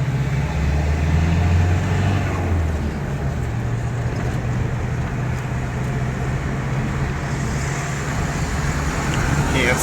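Mitsubishi L200 pickup with a turbocharged engine driving at normal pace, a steady low engine drone and road rumble running throughout, loud and close from inside the cab, with a deeper tone easing off after the first few seconds.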